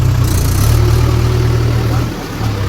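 A Mahindra tractor engine idles steadily and close by, a continuous low rumble with a slight dip near the end, amid outdoor background noise.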